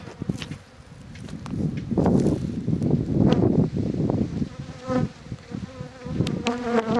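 Bees buzz around an apiary beehive during colony splitting, a dense close swarm drone rising and falling, with wind buffeting the microphone.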